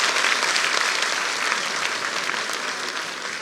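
A crowd claps steadily at a government event in Bhopal, dense and fairly loud throughout, with no voices over it.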